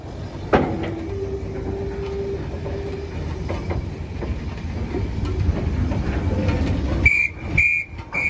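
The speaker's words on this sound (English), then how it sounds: "Our train is pulled out of the yard so that the tankers at the rear of the train can be detached from the two fish vans" A small-engine train pulling out of a yard with rear tankers and two fish vans: a steady low rumble and rolling clatter throughout, ending with a few short, loud whistle blasts near the close.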